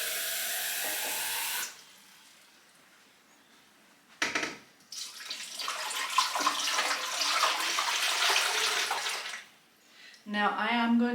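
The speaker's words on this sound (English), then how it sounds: "I'll grab a jug and I'll start filling this up." Water poured from a jug into a large cooking pot in a home kitchen makes a sustained rushing splash for several seconds, close by, with bits of talk before and after.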